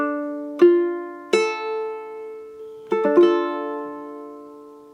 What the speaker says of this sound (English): Play each note in the chord separately to check that you are pressing all the notes down properly